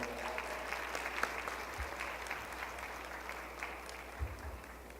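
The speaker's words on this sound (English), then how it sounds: "Put your hands together for Roger, ladies and gentlemen." A crowd applauds as a special guest is called onto the stage at a 2019 MLK program, steady clapping at moderate volume with a few sharper individual claps.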